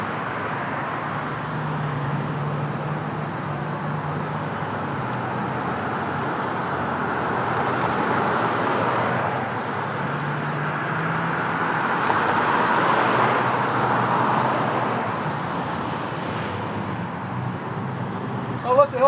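Vehicles pulling away one after another from a Mercedes dealership lot produce a steady, moderate wash of car engine and road noise, with low engine tones swelling and passing at mid distance and a faint voice underneath.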